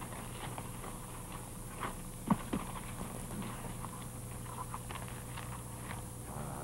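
Faint horse hooves clip-clop at a slow walk, soft and somewhat distant, with a few sharper knocks among them.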